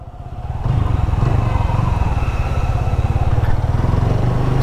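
A motorcycle being ridden, its engine chugging steadily and close by after a brief quieter start, holding an even rhythmic drone throughout.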